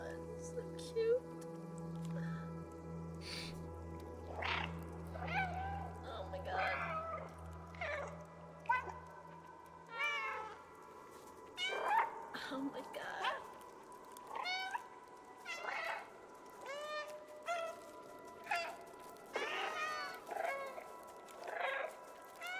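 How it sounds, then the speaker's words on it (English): Repeated meows from the cat in the video game Stray, dozens of short calls in quick, uneven succession, mixed with other game ambience and a person talking softly underneath. "it's like 20 minutes of me just spamming the circle button to meow"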